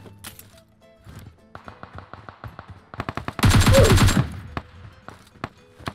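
Rapid gunfire from a mobile battle-royale shooter: sharp bursts of shots build up to a dense, loud volley in the middle, then taper into scattered single shots and clicks, with no talk.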